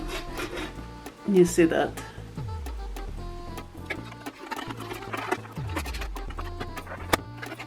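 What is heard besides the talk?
brush cleaning inside a Silver Crest sewing machine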